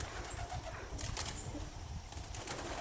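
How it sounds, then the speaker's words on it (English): Pigeons scuffling over territory, their wings flapping in a few soft bursts against a steady outdoor background hiss, fairly faint and with no voices. "That looks like pigeons fighting over territory."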